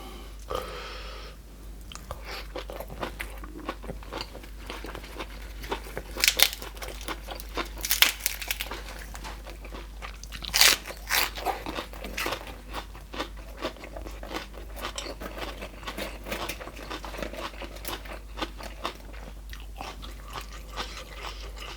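Someone bites and chews crunchy food with a Thai meal of grilled bamboo shoots, grilled small fish and spicy papaya salad, close crisp crunches and irregular chewing over a steady low hum, with no talk.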